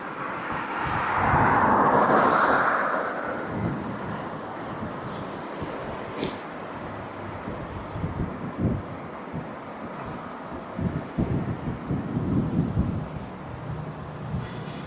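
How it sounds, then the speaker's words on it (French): Strong wind gusting outdoors at a stand before six in the morning, a broad roaring rush that swells loudest early and keeps buffeting with low rumbling bursts throughout, no one speaking. "Il y a du vent, il y a vraiment du vent"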